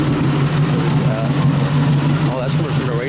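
Ford Mustang engine running loud with a steady low droning hum while the radiator smokes, a brief rising rev partway through, and someone talking over it.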